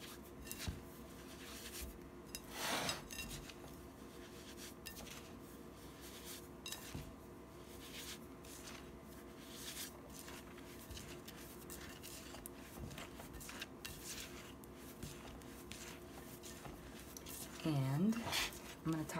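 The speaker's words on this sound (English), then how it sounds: "I mix it for a good 5, 6, 7 minutes" A microwaved baking soda mixture is stirred in a dish, with soft continuous scraping and rubbing of a utensil against the dish close up, occasional light clinks, and a voice talking throughout.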